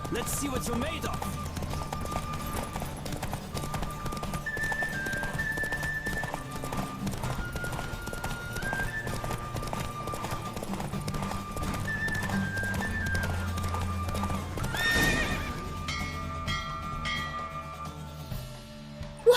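A horse gallops hard through a race in The Witcher 3: Wild Hunt, hooves hammering in a fast, even rhythm beneath music, with a loud burst near the end as the run winds down and voices briefly cut in.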